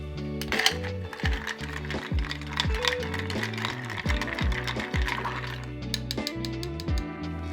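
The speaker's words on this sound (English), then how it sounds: "Next, we're going to add some ice and stir." Ice cubes are stirred in a mixing glass for a tequila cocktail, making close, bright clinking and rattling that repeats in a steady rhythm with no talking.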